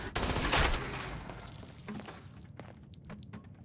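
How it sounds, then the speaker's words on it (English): A Gatling laser fires in Fallout 76 as a loud, rapid burst of shots up front that fades into scattered crackling hits and impacts. "I guess we're going to Gatling laser his head off."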